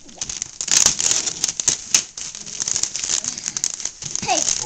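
Ribbon and wrapping paper pulled off a present give loud, close crinkling and tearing rustles with sharp snaps, while children talk and squeal over them.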